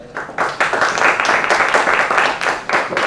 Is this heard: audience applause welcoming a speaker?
yes